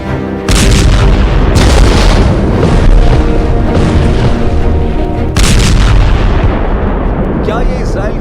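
Loud, booming explosions and heavy blasts roll continuously, with sharp bursts layered over a dense rumble and a few abrupt cuts.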